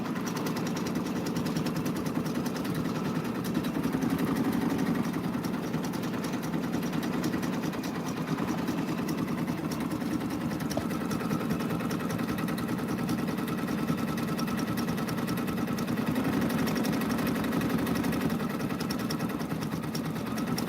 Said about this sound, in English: And now it will start stitching the rest of it, the headlock.